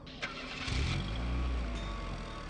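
A car engine cranks and catches with a sharp start, then rises into a steady rumbling rev as the car pulls away, fairly close and with no talking over it.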